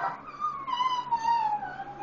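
Dogs lying on a living-room couch whimper and whine, with a drawn-out high whine sliding downward over about two seconds, faint and close, with no talk.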